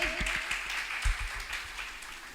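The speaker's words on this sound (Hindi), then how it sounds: "तो मैं आप सबकी भरपूर तालियों में यहाँ पे बुलाना चाहूंगी आमिर भाई को" An audience applauds to welcome Aamir Bhai onto the stage at an Independence Day and opening ceremony, a soft, steady patter of clapping with a few louder low thumps near the microphone.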